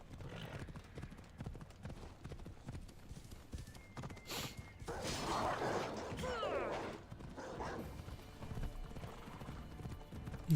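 A horse gallops and neighs in the video game Assassin's Creed Odyssey, steady hoof clatter building to a louder, busier stretch midway, with game effects around it and a faint dog-like yelp.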